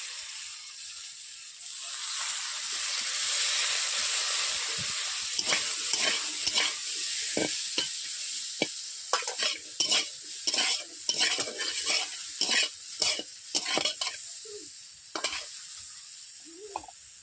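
Vegetables for shukto lightly fried and stirred in a wok, a soft oil hiss beneath a rapid series of sharp spatula scrapes and knocks that bunch up toward the middle and end.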